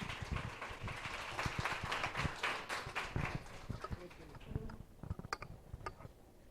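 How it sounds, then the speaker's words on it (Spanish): A crowd claps, a dense patter of hands that swells and then thins into scattered, fading claps. "Un aplauso, por favor."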